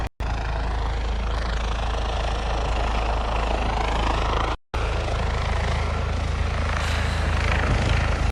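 In a video game, a helicopter lands with a loud, steady rotor roar and engine whine that holds throughout, broken by one brief cut partway through, and no talk over it.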